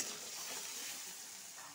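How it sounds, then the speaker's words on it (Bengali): Potatoes seasoned with salt and turmeric frying in a pan for a cabbage and potato dish, giving a steady, soft hiss of sizzling throughout with no talk. "আলুটা ভালো করে ভেজে নিব।"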